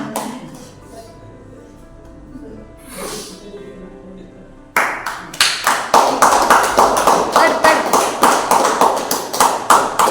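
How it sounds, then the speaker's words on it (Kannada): Audience applause welcoming a guest at a self-employment program event, breaking out suddenly after a quiet stretch of faint movement and building into a loud, rhythmic unison clap close by. "ತಾವೆಲ್ಲರೂ ಚಪ್ಪಾಳೆ ಮೂಲಕ ಅವರನ್ನು ಸ್ವಾಗತಿಸಲಿಕ್ಕೆ ಕೇಳಿಕೊಳ್ತಿದ್ದೇನೆ"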